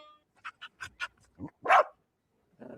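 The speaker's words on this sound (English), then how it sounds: "I really like the panting and bark." A dog pants in a few quick breaths, then lets out a single sharp bark, close and fairly loud, followed by a short low whine.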